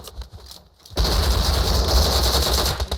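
Automatic rifle fire in the mobile battle royale game PUBG Mobile, starting with a brief quieter stretch, then a loud sustained burst of rapid shots close by that keeps going to the end.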